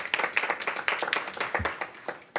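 Attendees at a school board meeting clap together in a quick burst of distinct, closely spaced hand claps that stays moderately loud and fades slightly toward the end.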